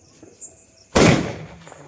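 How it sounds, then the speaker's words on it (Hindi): During a Diwali celebration, a firecracker goes off in one loud, sharp outdoor bang that fades into a brief rumble. It follows a few quiet seconds with faint background noise. "तो अब ये देखिए मेरा दूसरा पटाखा वहीं से खुद से निकल गया"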